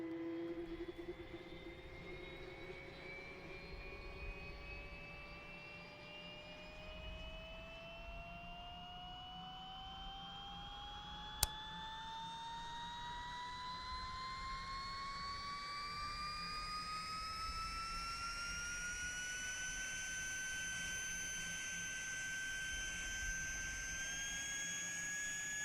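An Alouette III helicopter's turbine engine starting up in the MSFS flight simulator game: a loud, steady whine climbs slowly in pitch throughout, layered over a low rumble, with a single sharp click partway through.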